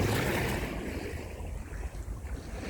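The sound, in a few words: ocean waves at beach during high tide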